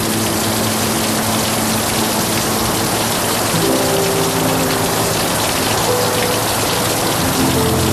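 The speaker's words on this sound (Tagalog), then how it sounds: "Umuulan kasi." Steady rain falling and drumming on surfaces, a constant broadband hiss lasting throughout at a fairly loud, even level, with faint tonal hum underneath and no talking.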